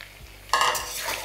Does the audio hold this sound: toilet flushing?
no